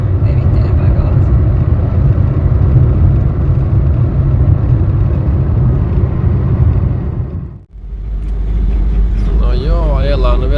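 Inside a 1989 Mercedes-Benz W124 250D diesel, a loud, steady engine drone accelerates, dips sharply for a moment as if changing gear, then builds again, with a voice talking over it.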